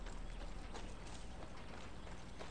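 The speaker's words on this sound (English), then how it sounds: "What, is it the horses?" Horses in the video game Far Cry 6 trot with quick, repeated clip-clop hoofbeats. The steady rhythm stays faint and distant throughout.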